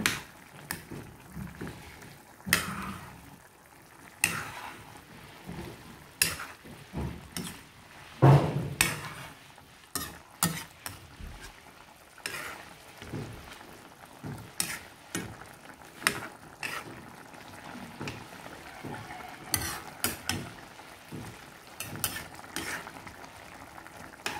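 Afritada being stirred in a cooking pot, a spoon knocking and scraping in repeated irregular clicks and clatters over a soft simmer, fairly close, with no talking.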